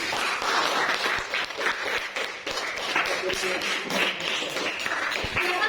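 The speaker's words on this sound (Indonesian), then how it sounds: "beri tepuk tangan untuk kelompok 1" Students in a class applaud a group, a scattered clapping patter with some sharp close claps and classroom voices mixed in underneath.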